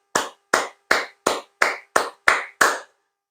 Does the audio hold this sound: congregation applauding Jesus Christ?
yes